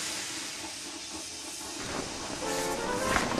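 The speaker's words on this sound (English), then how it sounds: "He was so scared, he let out a huge burst of steam," Steam engine James releases a big burst of steam, a broad, rushing hiss that swells toward the end, with faint rail clatter underneath.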